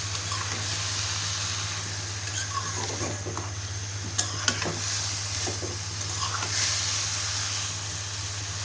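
Leafy greens are stirred into spices in a hot pan, giving a low, steady sizzle and hiss with a few soft scraping clicks from the stirring, fairly faint and without talk.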